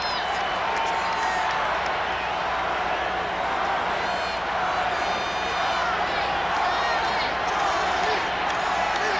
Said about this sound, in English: Crowd chanting Charlie, Charlie, with a count of 2-2 and nobody out